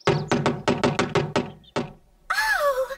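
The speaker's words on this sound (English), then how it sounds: "Looby Loo thought someone must be trying to knock her door down" Loud, heavy knocking on a door in a children's puppet story: a rapid run of about eight hard thuds with a short pause before one last knock. A voice comes in afterwards.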